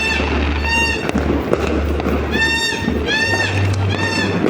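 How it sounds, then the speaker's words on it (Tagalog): New Year's Eve fireworks go off, with repeated whistling rockets rising over a low steady hum and a dense background of pops and crackle. "magpa-fireworks."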